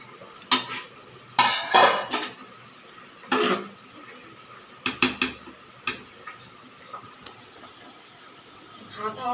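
A metal wok set down on a kitchen stove to heat, with several loud clanks and clatters of cookware and utensils in quick bursts, close by, followed by lighter ticks and taps.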